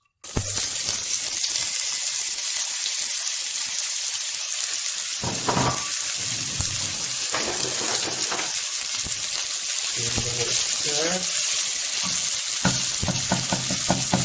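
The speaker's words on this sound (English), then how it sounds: "A hot pan. In we go with the onions." Onions hit a hot pan that already holds garlic and ginger, giving a loud, steady sizzle with frying crackle and occasional stirring scrapes, close up and with no talk.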